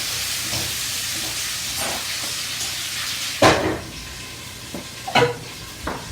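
Sausage and onion hit a hot pan with a steady, broadband sizzle, broken by a few louder bursts as pieces are stirred and moved around.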